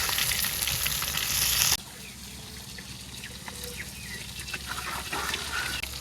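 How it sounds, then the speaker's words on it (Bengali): Fish frying in hot oil in a village kitchen, a loud steady sizzle for the first couple of seconds, then a softer continuous crackle with light stirring sounds. "এদিকে মাছটাও এক পাশ ভাজা হয়ে গেছে"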